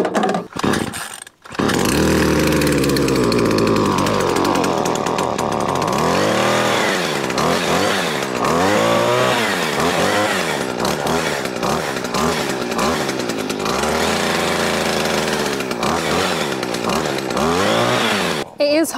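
A chainsaw run by a big machine trimming high tree branches at a wildlife pond site, loud and close, starting with a steady whine, then revving and bogging repeatedly in rhythmic cuts.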